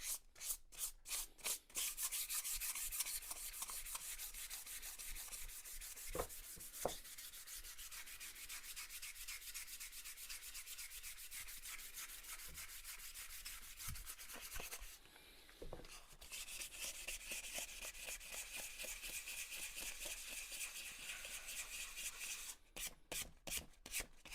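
Sandpaper of 240 grit rubs over wooden fretwork in quick, rhythmic back-and-forth strokes, close and quiet, with a short pause midway and a few slower separate strokes at the end.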